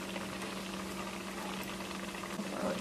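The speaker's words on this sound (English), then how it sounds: "it's been about 5 minutes and it's been boiling away" Pepper shrimp sauce with oyster sauce bubbles in a pan, a faint, even simmering burble that runs steadily throughout.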